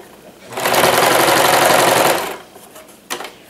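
A sewing machine stitching fabric for an overlock or hidden seam, a loud, fast, steady whir that runs for about two seconds, then stops, followed by a brief knock.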